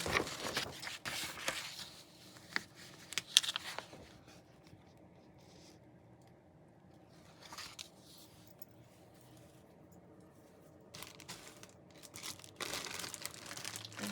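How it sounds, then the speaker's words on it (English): A sheet of white paper is handled and crinkled, with bursts of rustling and crumpling at the start and again near the end, separated by a quieter stretch of soft shuffling. "Now let's try to put down a piece of white paper."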